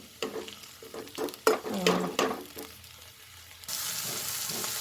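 Garlic and green chili paste frying for palak palya starts with soft, scattered clatters and stirring scrapes in a quiet pan, then a steady hissing sizzle rises near the end.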